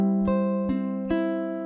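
A beginner Travis picking etude on ukulele played very slowly, with three soft plucked attacks over long ringing, sustained strings, close and clean with no talk.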